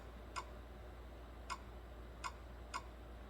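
Four sharp, isolated valvetrain ticks from a 2017 GM truck 5.3 V8 with a misfire, spaced irregularly over a low steady hum, close and fairly faint, like light mechanical tapping.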